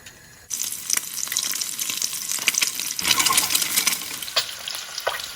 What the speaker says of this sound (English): just fry it like a quick sealing of the eggs